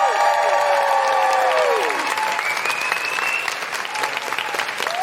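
A studio audience claps and cheers for guest Kirsty, loud sustained applause with woos rising over it and music playing underneath.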